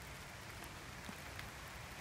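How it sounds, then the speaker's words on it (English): Light drizzle patters steadily through the woods, a soft continuous hiss with a few faint droplet taps, no voices present. "whether it's a drizzle like this or a torrential downpour"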